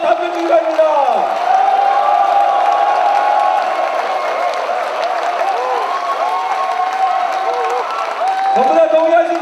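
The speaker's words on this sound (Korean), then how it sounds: "다시 한번 커다란 박수와 함성으로 답변 주기 바랍니다." A crowd at a South Korean political book launch answers with loud, sustained applause and cheering, with whoops and shouts layered over a thick bed of clapping and a few voices breaking through at the start and end.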